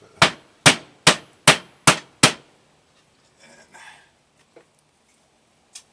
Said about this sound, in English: keep hammering it out and tenderizing as best you can